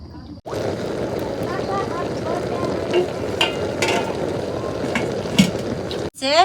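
A spoon scrapes and stirs a curry of pangas fish, new potatoes and eggplant in a pan, a continuous sizzling bed under brief utensil clicks and a faint voice, with a sharp knock at the end.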